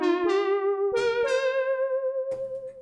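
A Waldorf Blofeld synthesizer plays a bright virtual-analog patch whose pitch is bent upward in steps across a few notes, with slight vibrato, solo and fairly quiet.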